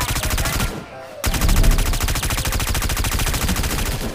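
Rapid automatic gunfire in the shooter game Omega Legends, loud fast bursts with a brief pause before a long, steady stream of shots resumes.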